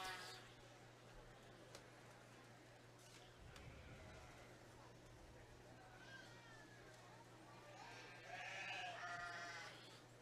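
Sheep and lambs bleating at a 4H youth livestock show, faint calls rising over a busy crowd murmur with people talking, growing a little louder toward the end.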